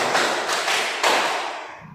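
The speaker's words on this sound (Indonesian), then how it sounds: "tepuk 1, tepuk 2, tepuk 3, tepuk 4, tepuk 5" Children in a grade 4 classroom clap together in counted sets, giving a few sharp, loud group claps spaced about half a second apart, close and unaccompanied by talk.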